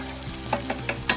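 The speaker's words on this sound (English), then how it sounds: "So all that is starting to roast up nicely. You can kind of hear it." Hot oil sizzles steadily up close while cumin and masala spices roast and are stirred, with a few soft scraping pulses over the constant hiss.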